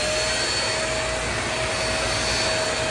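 A cordless stick vacuum cleaner runs on its higher suction setting with a steady whining motor drone and a high tonal hum, holding constant the whole time.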